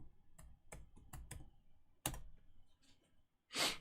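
A computer keyboard being typed on to enter a search term: a handful of sharp, close keystroke clicks in an irregular rhythm, followed by a louder final key press, with no talking.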